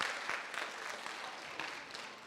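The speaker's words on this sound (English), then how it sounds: "Kids, give your parents a round of applause." Fifth and sixth grade children at a school spring concert clap for their parents in a dense burst of applause that carries on steadily, fairly close, with no talk over it.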